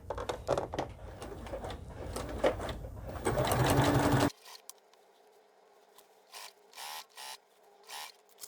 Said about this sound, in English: I'm getting ready to stitch the side seams